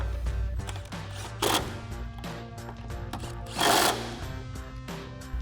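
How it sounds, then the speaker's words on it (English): Socket wrench ratcheting 18mm bolts on the front suspension of a 2015-2024 Ford Mustang during a lowering spring install, a steady run of close mechanical clicks with two brief louder bursts. "And we'll tighten them down with our 18mm socket."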